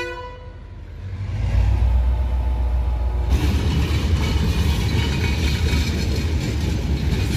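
Train passing on a railway line near Bentota beach in Sri Lanka, a horn sounds briefly before the loud, steady rumble and rattle of the passing carriages fills the rest of the clip.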